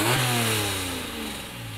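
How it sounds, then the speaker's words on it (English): A Honda NSX mid-engine car revs hard in one loud, close blip that rises quickly and then settles back down toward idle. "Can we get a sound clip? Give a little couple baby revs?"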